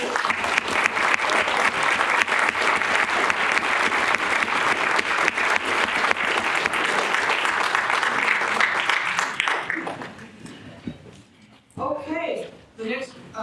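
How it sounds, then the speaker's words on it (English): Audience applause at a Republican women's club candidate debate: sustained, dense clapping from a crowd for about nine seconds, then fading out as scattered voices and talk take over near the end. "Would you have a round of applause for all the candidates?"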